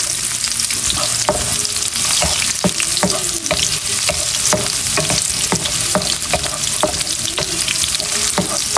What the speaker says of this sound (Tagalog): magigisa na po ng bawang at sibuyas